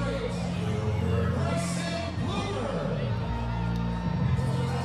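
Baseball crowd at a Savannah Bananas game against the Party Animals in Jacksonville, Florida, cheering a catch in right center field, a loud continuous roar of voices and whoops with commentary running over it.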